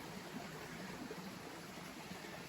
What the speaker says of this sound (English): This is the spring right here. You can see it bubbling out.